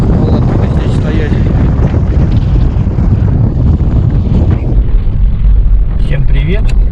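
Very strong wind buffeting the microphone on a rocky coastal cape, a loud continuous roar and rumble with gusty swells, while a person speaks underneath.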